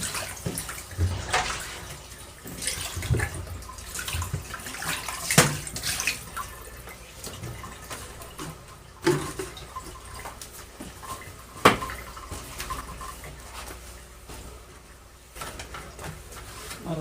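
Water runs from the tap into a kitchen sink while dishes are washed, giving a continuous splashing hiss broken by occasional clinks and knocks. Birds are audible faintly in the background, and no one speaks.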